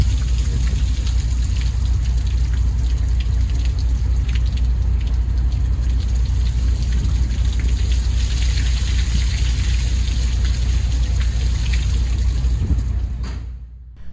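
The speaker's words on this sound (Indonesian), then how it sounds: "Itu air terjun." A constant, heavy rush of falling water roars without pause, loud and close, before cutting off abruptly at the end.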